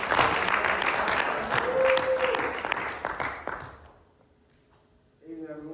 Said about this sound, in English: Let's give a round of applause for Joshua